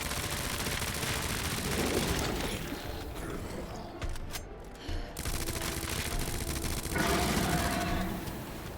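Sustained gunfire in Resident Evil 2 Remake, played as Claire against a boss, with rapid shots and mechanical clatter throughout and a short lull in the middle, no talk.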